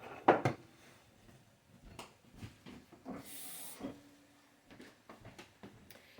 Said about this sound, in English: you gotta get a little steam so those mushrooms will cook